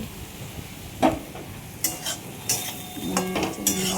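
Ghetu leaves cooked with coconut being stirred in a pan, soft scraping strokes and clinks of a utensil against the metal, a few sharper knocks spaced apart over faint background hiss.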